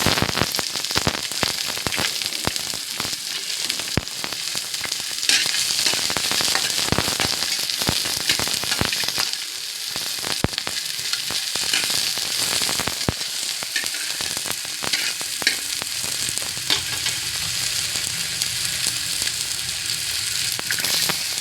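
Onion for sinigang bangus sautés in a little oil, making a loud, dense, crackling sizzle that runs without a break for about twenty seconds, close to the listener and free of speech.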